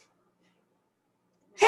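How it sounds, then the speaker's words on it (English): A single sudden sneeze bursts out close and loud after a stretch of silence, cutting off abruptly. "I'm going to sneeze again."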